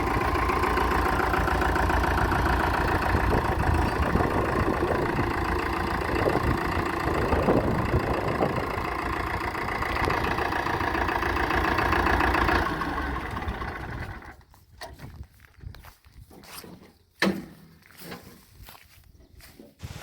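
A tractor engine idles steadily beside a Changfa CF866 cabin harvester with a slipped right track, a continuous mid-range drone for about thirteen seconds before cutting to sparse clunks and silence.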